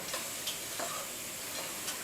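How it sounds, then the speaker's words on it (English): Food sautéing in a pan as aged granulated garlic is stirred in, giving a soft, quiet sizzle with a few light stirring scrapes close by. "I'm sauteing."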